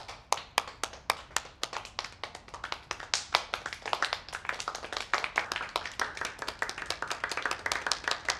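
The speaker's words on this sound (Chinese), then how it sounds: "掌声鼓励一下。" A group of people applauds a new restaurant manager being introduced at a staff gathering, with steady, moderately close hand clapping of many overlapping claps running throughout, no speech over it.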